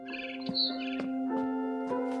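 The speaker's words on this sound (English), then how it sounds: "Then I heard chirping outside my window." Synthetic-sounding barn swallow chirps in What Remains of Edith Finch, short tweets repeating over a steady electronic tone, clear and close.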